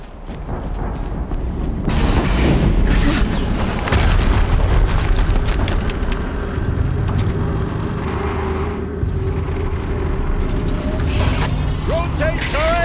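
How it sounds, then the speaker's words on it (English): An explosion in the video game Horizon Zero Dawn booms loudly and then rolls into a sustained rumbling, crackling roar of debris and machinery, with a voice speaking partway through. "An explosion."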